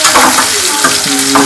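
Hot oil sizzles loudly in a frying pan as a tempering for a tomato and brinjal curry is stirred, with rapid scraping strokes of the spoon layered over the constant crackle.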